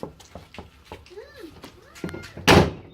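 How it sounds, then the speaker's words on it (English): A 1985 Chevy Suburban door is shut after a striker bushing repair, giving one loud solid slam near the end, preceded by light clicks and faint squeaks. "your door should now shut properly."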